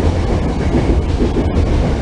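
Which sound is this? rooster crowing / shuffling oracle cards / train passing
train passing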